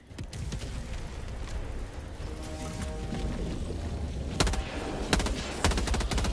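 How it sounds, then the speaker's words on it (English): Artillery strikes land in Helldivers 2, with a continuous roar of in-game gunfire and explosions that ends in several sharp, loud impact bursts. There is no speech. "And there it is, the artillery again."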